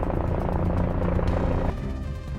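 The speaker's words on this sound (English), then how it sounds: "On the main road, the sound of blades filled the air. A police helicopter hovered above." A police helicopter hovers above a main road, its rotor blades giving a steady, rapid chopping drone overhead that shifts slightly toward the end.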